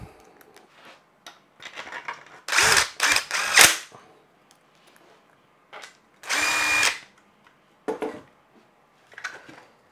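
A power drill drives screws into a prototype unit in short bursts, several whirring runs of one to two seconds separated by quiet handling clicks and clatter, close and loud.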